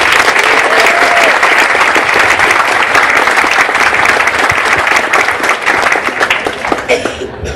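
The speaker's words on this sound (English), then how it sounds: "Give Kristen Zagers another round of applause." Audience at a ceremony gives a loud, sustained round of applause, dense and continuous clapping that tapers slightly toward the end.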